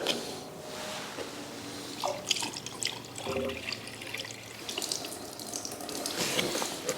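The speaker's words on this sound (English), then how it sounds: "then we can fill that up with cooling liquid" Coolant poured into an old rusty engine, a steady liquid trickle and gurgle that runs throughout at a fairly faint level, close by, with no voices.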